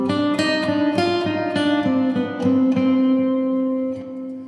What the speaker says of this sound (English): This is a sort of luxury spring, the AKG BX20.